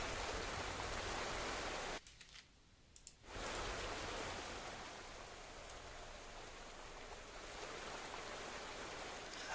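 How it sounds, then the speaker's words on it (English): A waterfall's steady, full-bodied rushing roar fills the scene. It drops out briefly for about a second early on, then returns at an even, constant level with no voices. "now you should be able to hear the waterfall"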